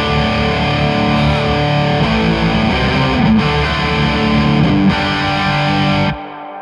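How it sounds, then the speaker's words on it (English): A VH-X effects unit plays a lush, synth-like reverb preset, with sustained distorted, shimmering tones that shift in pitch over a few seconds and cut off abruptly near the end, with no talking. "we have this lush reverb that is actually my favorite because it has this kind of"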